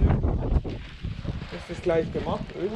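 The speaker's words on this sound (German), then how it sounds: "scheiß Wind." Wind buffets the microphone outdoors on a farm, a continuous low rumbling roar with gusty swells that stays loud throughout, while someone speaks German over it.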